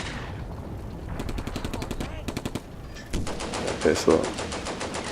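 Gunfire in the video game Combat Mission: Beyond Overlord, with rapid machine-gun bursts and scattered louder shots rattling throughout as someone talks over the battle.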